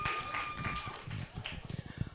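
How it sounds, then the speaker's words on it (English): Scattered audience clapping at a small open mic night, fairly faint and uneven, thinning into a few distinct claps toward the end, with a voice briefly audible. "Let's make another round of applause for Yvonne Downing."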